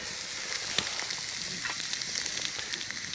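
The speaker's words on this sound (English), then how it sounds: "now for the steak to go in" Steak sizzling and frying in a hot pan, a steady close hiss with small crackles and pops throughout, no voices.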